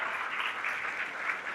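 An audience claps in steady, dense applause at a laptop distribution event for IT students in Kamra, a continuous even patter lasting throughout, with no voices over it.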